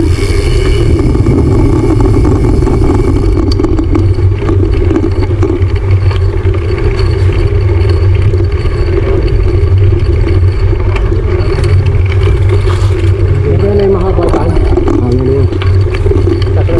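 Motorcycle engines rumbling steadily during an anniversary group ride of a bikers' club, a continuous loud drone with rattling and wind noise, voices talking now and then over it.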